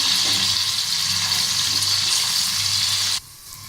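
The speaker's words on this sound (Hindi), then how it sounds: "ये उस वक्त तक हम लाल करेंगे जब तक गोल्डन ब्राउन ना हो जाए।" Food frying in a pan over a high flame until golden brown, with a steady, bright sizzle close by that cuts off abruptly near the end and leaves quieter background noise.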